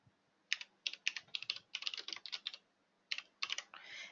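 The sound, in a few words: typing on a TVS Gold computer keyboard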